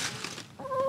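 A chicken gives a short cluck followed by a steadier tonal call, close by, with light rustling noise before it.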